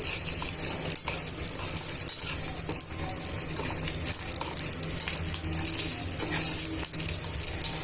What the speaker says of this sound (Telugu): ఇందులోనే కాస్త కరివేపాకును కూడా యాడ్ చేసుకోవాలి యాడ్ చేసుకున్న తర్వాత ఇవన్నీ కూడా బాగా వేయించుకోవాలి